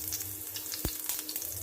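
Onions dropped into hot oil in a pan for a Kerala fish curry with kudampuli, following mustard seeds, giving a steady close sizzle with a sharp crackle as they hit.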